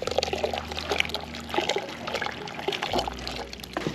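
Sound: pouring watery porridge paste

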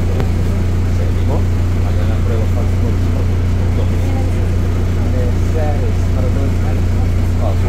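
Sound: inside a city bus while riding

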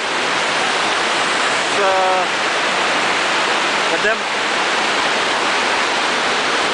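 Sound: powerful spring of rushing water

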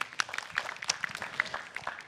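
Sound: audience applause

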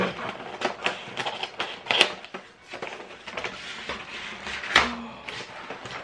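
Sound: opening a snack crate box

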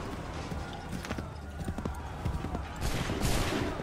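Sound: musket volley fire in Assassin's Creed III video game

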